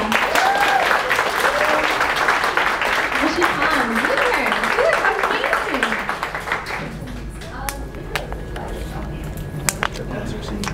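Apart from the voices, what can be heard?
audience applause for Katana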